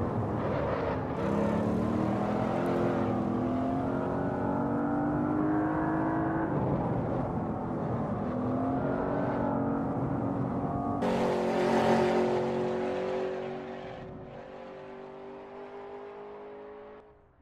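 A McLaren 720S sports car driving canyon roads in Los Angeles gives a loud engine note that climbs through the gears. Several rising revving sweeps and shifts follow one another, then the sound settles into a quieter cruise.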